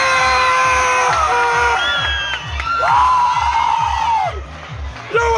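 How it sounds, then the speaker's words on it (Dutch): A loud crowd at a kickboxing match cheers and whoops with shrill shouts and rhythmic clapping underneath, sustained and close. "Lekker groot applaus voor Marco."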